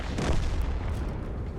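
Artillery fire in the tank game World of Tanks: a dense, continuous rumble of booming shots and low blasts, loud and close, with no clear gaps across the short span.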